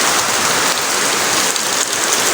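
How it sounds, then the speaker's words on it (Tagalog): Heavy rain pours down steadily onto a house roof and yard, a dense, continuous hiss of drops hitting surfaces with no voices. "Kaso ang lakas ng ulan, di ako makalabas."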